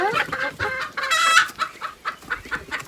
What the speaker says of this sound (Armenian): Հետո ես տամ հավերիս